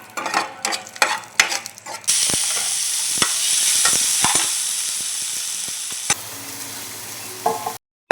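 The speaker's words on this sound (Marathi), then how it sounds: "इथे बघा लसूण आपला भाजत आहे" Garlic roasting in a pan for a home-cooked gravy, with a couple of seconds of clattering stirring followed by a steady, close, dense sizzle that carries on for several seconds before stopping abruptly.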